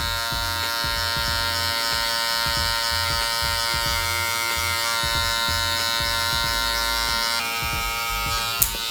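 Electric hair clippers buzz steadily and loudly up close while a barber cuts a low taper, the drone continuous throughout with a small click near the end.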